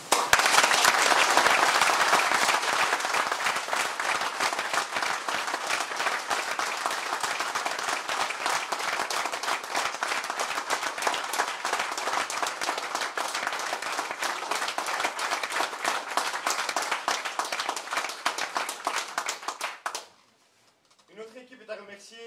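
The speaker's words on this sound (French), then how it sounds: "Je vous propose de lui adresser notre merci par des applaudissements nourris." Sustained audience applause at a municipal council installation meeting, dense and steady clapping for about twenty seconds before cutting off abruptly into near silence.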